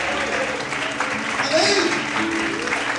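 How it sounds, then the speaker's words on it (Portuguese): A church congregation applauds during an evening worship service while voices carry over the top, the clapping forming a steady, moderately loud bed beneath the talk and calls. "Você pode aplaudir a Deus nessa noite."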